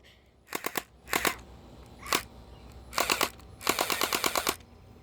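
A toy blaster fires in rapid bursts of sharp clicking pops, several short volleys and single shots over about five seconds, close and loud against a quiet room.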